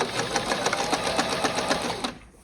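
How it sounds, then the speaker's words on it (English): A sewing machine stitches through stretched elastic, one steady run of rapid close needle chatter lasting about two seconds before it winds down, with no talking. "And then I'm going to sew about 1 inch at a time."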